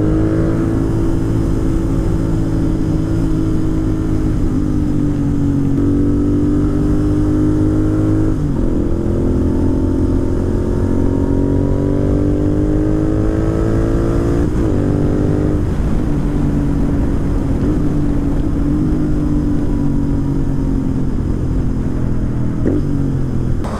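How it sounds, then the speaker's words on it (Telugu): A Benelli 300 motorcycle with a stage 2 tune idles and revs loudly up close, its deep throbbing exhaust rising and falling through several throttle blips over a constant rumble. "బెనిలీ 300 ట్యూన్ స్టేజ్ 2 కదా, సౌండ్ మామూలుగా రాదు, మీకు ముందర చూపిస్తా."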